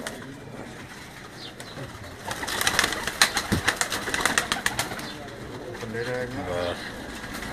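Pigeons on a rooftop in Gujrat coo in low, repeated phrases, with flutters and other noise building in the middle, while people talk nearby.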